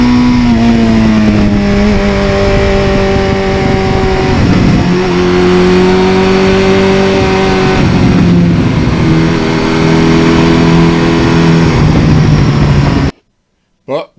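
A 1982 Suzuki GS1100E motorcycle is ridden on the road, its engine droning loudly with rising and falling pitch as it shifts through gears, wind rushing over it, before it abruptly cuts to near silence at the end.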